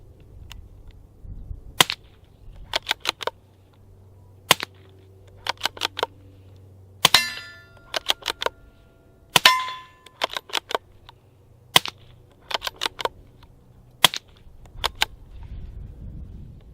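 A suppressed Savage B22 rifle fires CCI subsonic .22 LR rounds through an AAC Halcyon silencer in its full configuration. The shots come as sharp, quiet cracks, some single and some in quick clusters of three or four, with the bolt action clicking between them.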